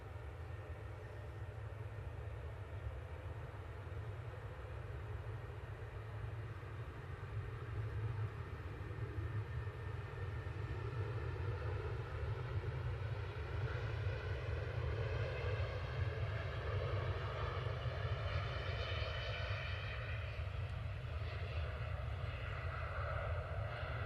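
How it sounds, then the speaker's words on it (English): A Jet2 Boeing 757 on its takeoff roll during the G-LSAC retirement flight, heard from a distance as a steady, faint roar with a rising engine whine building toward the end. "So we've got the Jet2 now on the roll."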